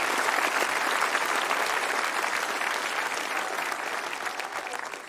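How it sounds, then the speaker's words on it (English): An audience at a graduation ceremony on a California campus claps in a loud, dense, continuous round of applause that holds steady and fades slightly toward the end. "Can we please give all these deserving gentlemen another round of applause?"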